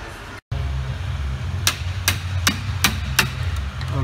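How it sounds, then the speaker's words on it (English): Five sharp metallic strikes of a hammer on a pry bar against a 4WD GM truck tie rod land about every half second over a steady low mechanical hum, each a bright ringing clank, fairly close. "now we're using a pry bar and a hammer"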